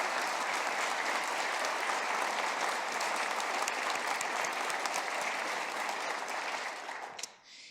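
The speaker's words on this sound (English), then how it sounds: "give Liza and her team a round of applause" Audience applause at a South Dakota governor's budget address, a broad, sustained roar of many people clapping in a large hall, steady throughout before fading out at the end.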